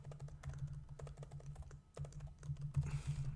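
A computer keyboard is typed on quickly and steadily to enter data into an Oracle database table, with soft close clicks running in irregular bursts over a low background hum and a short pause midway.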